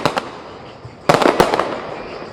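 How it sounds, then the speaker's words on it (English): Fireworks set off outdoors at night in the Atlanta area, with a few distant pops followed by a loud cluster of sharp bangs and crackles that trail off into rumbling echoes. "They're setting off fireworks right now, and for that reason, it's hard to hear what we were saying."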